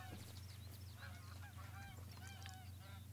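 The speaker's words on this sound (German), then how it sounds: "Hier haben wir schon direkt wieder die nächsten Gänse." Geese honking in the hunting game theHunter: Call of the Wild, a flock calling repeatedly at mid distance in nasal overlapping honks over a steady low hum of game ambience.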